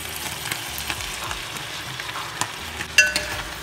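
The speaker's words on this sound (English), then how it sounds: "And mix, baby, mix." Stirring a pot of mousse on the stove, with a steady sizzle and a soft scraping of the utensil that end in a sharper clink near the finish, with no talk.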